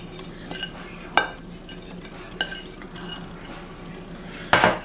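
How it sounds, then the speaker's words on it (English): A spoon clinks against a mixing bowl as grated carrots are stirred into carrot cake batter in a home kitchen. A few sharp, separate clinks stand over a quiet, soft scraping. "We put our carrots in."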